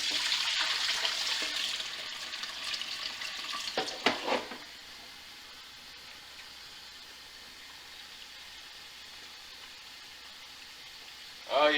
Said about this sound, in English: We're going to pour this extra water off.